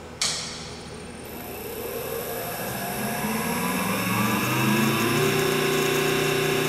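A DCM Technologies IG-180-M 18-inch vertical spindle rotary surface grinder starts with a sharp onset and spins up, a loud steady machine whine with tones rising as it reaches speed, no talk.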